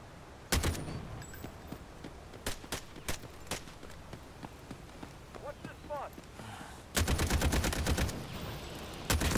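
Gunfire in the shooter Delta Force's extraction mode: scattered sharp single shots early, then a dense loud burst of rapid automatic fire near the end, with quieter footsteps and movement between them.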